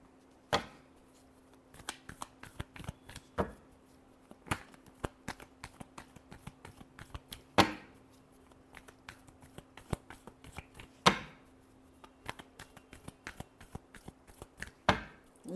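A deck of tarot cards is shuffled in quick riffles, each burst a sharp crisp flutter followed by softer taps and slides of cards; the bursts repeat every few seconds with small clicks between them, close and clear with no voice over them.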